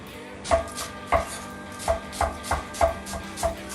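Two garlic cloves being worked on a board for orange chicken, giving about seven evenly spaced, close, sharp knife-like strokes with no talking.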